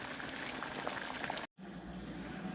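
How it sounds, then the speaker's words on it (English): Macaroni noodles boil in a pot on the stove, a close, continuous bubbling and rolling of water, briefly cut off partway through before resuming just as steadily. "while your noodles is over there boiling, cooking"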